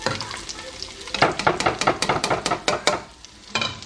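Sliced bell peppers for arroz chaufa hit a hot pan, a soft sizzle giving way to a rapid run of scraping, clattering stir-fry strokes before easing off.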